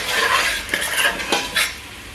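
Chili pepper being stirred into egusi in a cooking pot, with a few scraping strokes of a utensil against the pot over a soft sizzle, close and clear, no voices.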